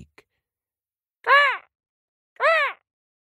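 A crow caws twice in a children's story, two loud, harsh, separate calls about a second apart with silence around them.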